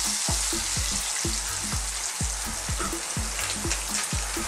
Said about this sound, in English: I'm now gonna drop in some single cream.